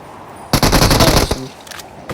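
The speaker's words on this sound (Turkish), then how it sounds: "Sıkıyorum ya. Sık sık sık." Machine gun fire in PUBG Mobile: a loud, close burst of rapid automatic shots lasting under a second, followed by a few scattered quieter shots.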